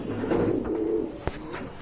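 Pigeons offered for sale coo close by in a brief, soft, rolling call, followed by a single sharp knock.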